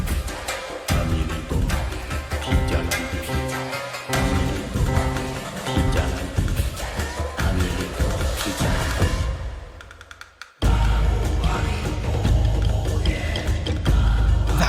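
Boss battle music from the video game Black Myth: Wukong, a loud, dense orchestral track with busy, playful percussion, briefly thinning near the end before returning at full force.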